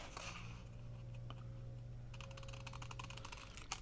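Paper card for a cascading journal pocket is trimmed with a series of soft, rapid cutting clicks, quiet and close up, which cluster more densely toward the end over a low steady hum.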